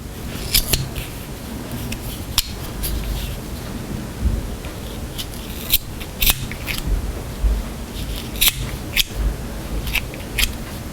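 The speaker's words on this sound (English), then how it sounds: "And then you trim the edges." Scissors snip the yarn ends off a crochet piece, a series of sharp, irregular clicks and cuts close by, spaced through a soft background hiss, with no talking.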